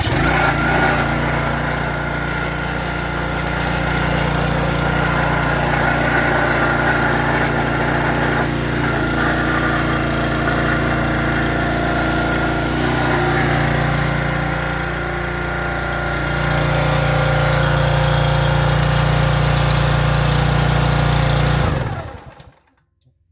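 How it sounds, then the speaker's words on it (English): A Briggs & Stratton EXI 875 small engine mounted on a Huskee 22-ton log splitter runs loud and steady at close range for about twenty seconds, its pitch rising briefly before it cuts off abruptly. "This is the new Briggs & Stratton EXI 875 motor."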